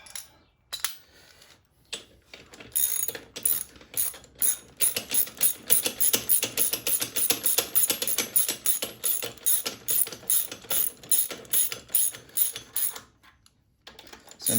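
Rapid ratchet clicking in repeated bursts, close and loud, as a ratchet tightens Loctite-treated bolts on motorcycle foot pegs, with short pauses between strokes and no talking.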